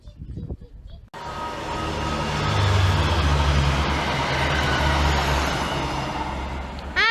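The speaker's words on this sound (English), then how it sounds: "a Class 142 and 150, bound for God knows where, passes Heald Green" A Class 142 and a Class 150 train pass Heald Green. A short burst of voice gives way to a loud, sustained rumble and roar of the passing trains that swells and holds steady.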